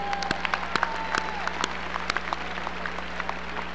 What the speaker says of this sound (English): Please join me in another round of applause for your commencement speaker.